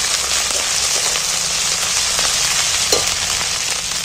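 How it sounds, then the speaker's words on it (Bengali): Ginger and garlic fry loudly in hot oil while being stirred, giving a dense, close, rain-like sizzle that holds steady with a brief scrape of the spoon near the end, with no talking. "এটাকে তেলের মধ্যে নাড়াচাড়া করে ভেজে নিন"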